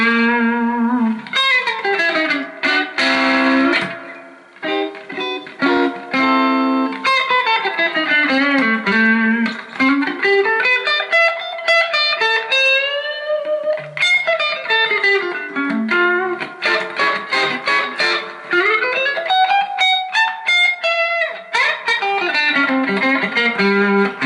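Electric guitar through a Marshall DSL15 amp with a modified reverb: loud, overdriven chords and sliding, bending lead phrases played continuously with a lingering reverberant tail, close and without any talking.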